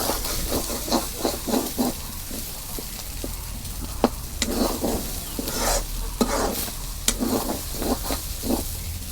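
Chicken meat frying in a pan while being stirred, a loud close sizzle and hiss broken by rhythmic scraping strokes and occasional sharp clanks of a utensil, with no voices.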